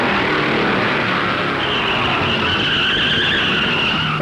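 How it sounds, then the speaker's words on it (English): Tyres of a Mercury and a Ford stock car skid and squeal as the two tangle at the 1964 Darlington Southern 500, a loud continuous roar of engines and rising screech over crowd and track noise. "Darrell Derringer's Mercury tangles with Cale Yarborough's Ford."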